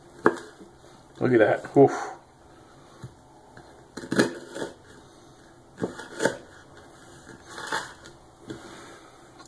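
Knife cutting a hard material during a carbon versus stainless steel wear-resistance test: several separate crunchy, grinding cutting strokes, with a man's short exclamations between them.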